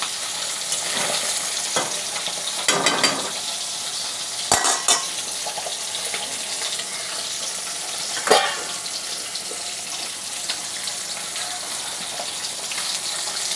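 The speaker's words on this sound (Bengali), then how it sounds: "তো ওই কাঁচা লঙ্কা একটু কালো জিরে দেবো, ফোড়ন দেবো, দিয়ে ওটা বানাবো।" Green chillies and nigella seeds tempering in hot oil, a steady close sizzle and crackle broken by a few sharp clinks and scrapes of stirring, with no voices.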